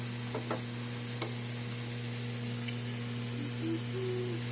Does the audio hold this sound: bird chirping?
no